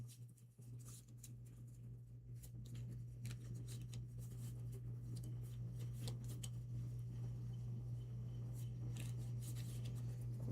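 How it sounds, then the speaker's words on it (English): Deck of tarot-style cards being shuffled by hand for the tabletop game Black Sonata, a faint, close, continuous papery riffling and rustling with no talk. "So I will shuffle these up."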